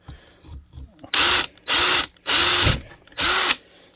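A power drill bores a hole through the tab of a Homelite chainsaw during an ignition swap, four loud, steady bursts of whining drilling separated by short pauses, with faint handling noises before the first.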